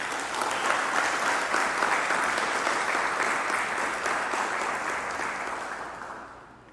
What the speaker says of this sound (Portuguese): Vamos dar um aplauso a Jesus